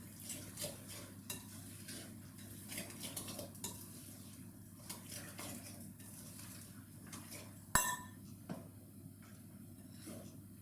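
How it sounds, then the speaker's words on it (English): A spoon stirs thick oat muffin batter in a bowl, producing quiet, repeated scraping and soft thick squelches in an uneven rhythm, with one sharper clack midway, all close and faint. "I'm going to stir this one more time before I add my last ingredient, which is raisins."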